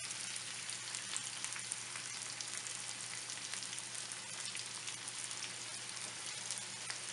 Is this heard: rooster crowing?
no